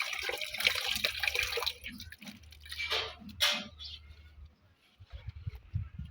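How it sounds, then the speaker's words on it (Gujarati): Dirty water drains out while a cattle water trough is cleaned, producing close trickling and splashing that comes in uneven bursts and fades near the end, with no talk. "ઘણું નીકળ્યું મિત્રો ગંદુ પાણી"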